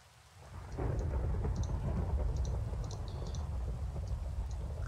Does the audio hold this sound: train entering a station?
no